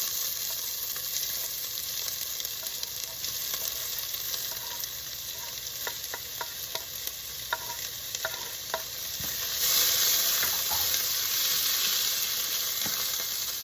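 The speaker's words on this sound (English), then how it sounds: "first we gotta saute these onions" Onions sauté for a ground beef keema curry, giving a dense, steady close sizzle in the pan. Occasional spatula scrapes and clicks sound over it, and the frying swells louder near the end, with no talking.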